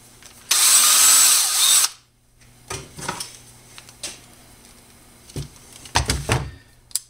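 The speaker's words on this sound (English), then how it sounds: "We're going to go ahead and use the barrel trimmer and trim off the ends." A barrel trimmer cuts the ends of a deer antler pen blank held in a vise, with a loud close whining burst of about a second, followed by knocks and clatter of handling.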